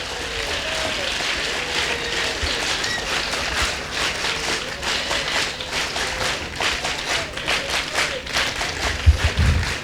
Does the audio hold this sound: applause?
yes